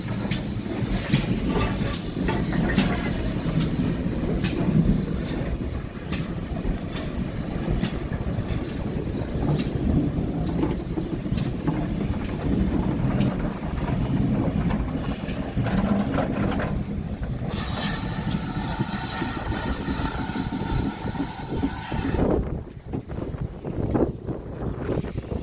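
GWR 5526, a steam locomotive in GWR green livery on the South Devon Railway, pulls into a station platform during a steam gala with a low rumbling rolling noise, brief clanks, and a hissing burst of steam near the end.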